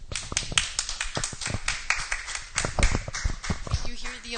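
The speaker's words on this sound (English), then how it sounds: "You hear the applause." Irregular, close claps and taps pop out unevenly at a book reading, like a small audience applauding. Voices murmur underneath, and a voice comes in near the end.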